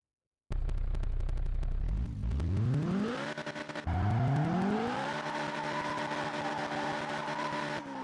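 A car in a racing video game skidding around a circle, with engine revs climbing in repeated sweeps alongside a continuous tire squeal, loud and steady with no talk.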